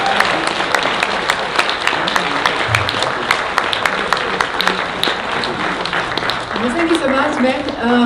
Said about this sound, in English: So just give him a big hand of applause again